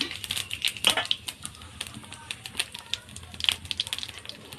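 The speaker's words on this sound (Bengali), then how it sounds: "ওই তেলেই দিয়ে দেব জিরে ফোড়ন" Cumin seeds hit hot oil left from frying potatoes in a home kitchen, giving a crackling, popping sizzle with irregular sharp spits close by throughout.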